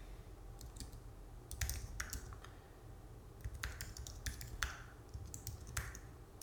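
Computer keyboard typing code, quiet irregular bursts of key clicks with brief pauses between runs, close and alone with no talk.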